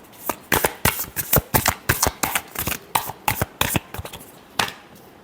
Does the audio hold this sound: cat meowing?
no